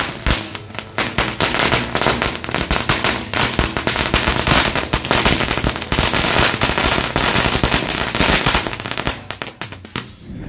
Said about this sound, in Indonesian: Oke teman-teman, kita lanjut menyalakan mercon green lighting.